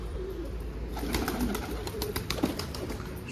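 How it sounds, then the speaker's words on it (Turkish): Pigeons coo softly in a close group before being let out, low repeated murmuring calls over a light background rustle, without talking. "Şu kuşları da bırakayım."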